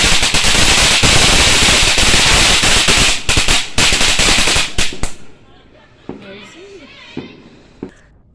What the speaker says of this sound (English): It's a bloody rocket, this one.